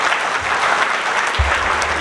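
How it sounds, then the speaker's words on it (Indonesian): Audience clapping at a property launch event, a steady patter of many hands lasting about two seconds, with faint low voices underneath. "Tepuk tangan buat Citra Garden Serpong."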